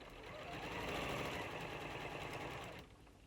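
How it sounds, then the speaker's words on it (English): A sewing machine stitches the base gusset of a fabric bag to the front outer panel in a steady, continuous run lasting under three seconds, close and alone, before it stops. "lower the presser foot and stitch the bottom of the base gusset to the bottom of the front outer"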